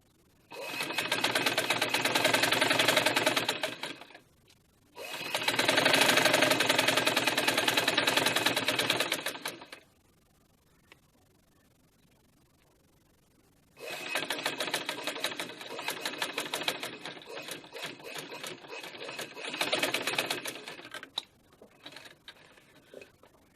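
A sewing machine runs in bursts while stitching a shirt collar, with two long steady runs, a pause, then a longer run with uneven speed and faint ticking between stitches, close and alone.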